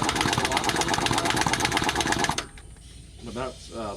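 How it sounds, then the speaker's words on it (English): An air compressor runs steadily with a dense mechanical drone in a workshop during a 1974 W200 hub removal, then cuts out abruptly partway through, leaving quiet room tone and a few short voiced sounds. "Did you turn the air compressor off?"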